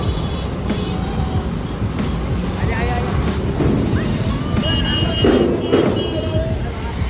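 Busy road traffic outside a university gate in India, with a steady engine rumble and broadband roar, occasional horn-like tones, and voices talking nearby throughout.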